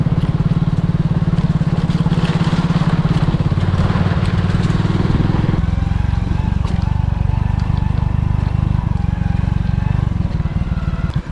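Motorcycle riding along a forest route toward a waterfall near Puttur, a steady close engine drone with a shift in pitch midway as the ride continues, loud throughout.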